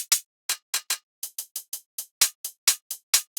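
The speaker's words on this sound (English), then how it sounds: "Followed by some hi-hats." Crisp, bright electronic hi-hat ticks play alone in a quick, slightly uneven rhythm, short and sizzly, at moderate loudness.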